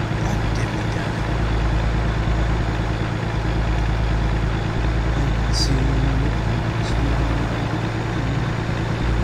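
A truck in American Truck Simulator idles with a steady low diesel rumble and hum, constant and close, with a faint clatter partway through.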